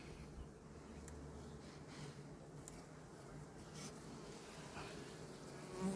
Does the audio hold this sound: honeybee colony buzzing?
yes